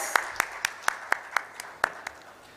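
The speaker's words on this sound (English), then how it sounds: "A huge round of applause." Sparse, distinct hand claps at a sustainability conference in a hotel hall, about ten sharp, fairly evenly spaced claps from one or a few people, moderately close and fairly quiet.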